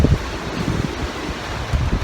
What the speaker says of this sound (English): That's the wind blowing the camera over.